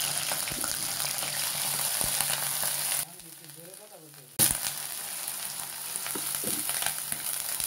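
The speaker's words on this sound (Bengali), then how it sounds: "পেঁয়াজের কাঁচা গন্ধটা যাওয়া পর্যন্ত আমি একটু ভেজে নেব।" Onion paste fries in hot oil with a steady, close sizzle that drops out for a moment and then bursts back in loudly.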